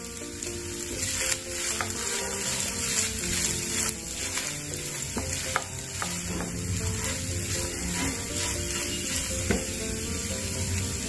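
Grated coconut frying in a pan with salt, a continuous sizzle with frequent soft scraping stirs, heard under background music.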